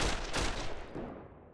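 Gunfire in the online World War II shooter Heroes & Generals: a short, faint burst of shots, then a fading echoing tail, alone with no talk.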